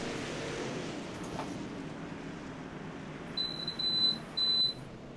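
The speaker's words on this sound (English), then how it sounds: "Is there a fire alarm going off in your house?" A home fire alarm sounds in the background during an iRacing dirt-track race broadcast, three short, shrill electronic beeps in quick succession near the end over a low, steady rumble.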